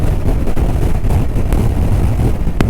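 Voge 525 DSX motorcycle engine, a 500 cc bike, running at about 5,000 rpm on the road, a steady droning hum under heavy wind rush, with a brief sharper blip near the end.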